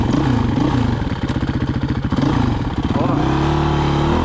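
A motorcycle engine on a dirt trail ride at Box Canyon, Arizona, revs and putters loudly throughout, its pitch rising and falling, with a voice talking over it.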